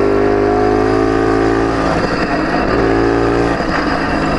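Romet Ogar moped engine revving hard while being ridden, a buzzy two-stroke drone climbing and dipping with throttle changes, loud and close with no talk over it.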